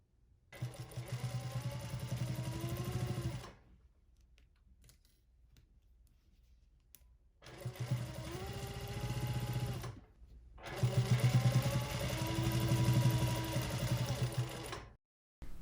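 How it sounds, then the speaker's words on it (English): A sewing machine runs a straight stitch on a hoodie in three steady bursts of rapid needle chatter, with short quiet pauses between runs. "now I'm just going to sew around that whole thing with a straight stitch"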